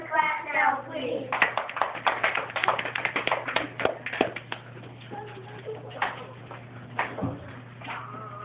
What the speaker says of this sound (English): Everyone clap now, please.